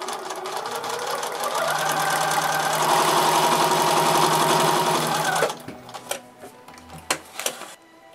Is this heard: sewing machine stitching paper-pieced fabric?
yes